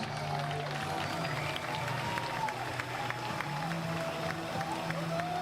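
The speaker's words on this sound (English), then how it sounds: "For the United States, a big round of applause for Tony Spredeman and for Christoph" Steady applause from an arena crowd for US foosball players at a World Cup nations final, continuous and moderately loud, with a faint hum underneath.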